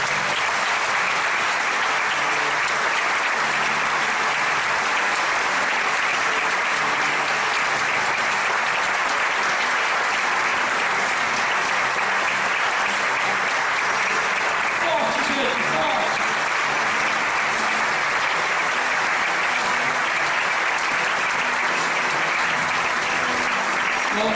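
A church congregation at a communion service applauds a couple married for 60 years, a dense, loud, sustained wash of clapping from many hands filling the whole stretch with no break.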